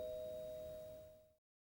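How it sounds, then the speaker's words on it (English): A doorbell chime rings once in a room where watercolor masking fluid is being brushed on, a clear sustained electronic tone that holds steadily and then cuts off abruptly, with no talk over it. "And then the doorbell rings."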